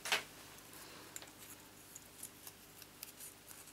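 Scissors cutting through card board, starting with one sharp snip and followed by a run of faint, small clicks and taps in a quiet room.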